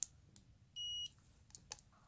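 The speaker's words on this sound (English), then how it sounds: "put the meter on your beep mode" A multimeter in continuity beep mode on a DIY Bluetooth audio board gives one short, clear electronic beep amid faint clicks of probes in a quiet room.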